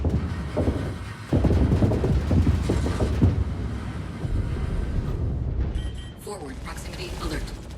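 A target ship is destroyed in the Star Citizen space combat game, making a loud, rumbling explosion that swells and sustains for several seconds and then decays. It comes with ship alert tones and cockpit noise.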